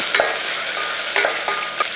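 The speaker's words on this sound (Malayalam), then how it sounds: "ഇഞ്ചി വെളുത്തുള്ളിയൊക്കെ ചെറുതായിട്ടൊന്ന് മൂത്ത് വരുമ്പോഴത്തേക്കും നമുക്ക് അകത്തോട്ട് സവോള കൊടുത്തു കൊടുക്കാം" Sliced onion with ginger and garlic frying in oil inside a pressure cooker, a continuous close sizzle broken by a few sharp stirring scrapes, with no voices.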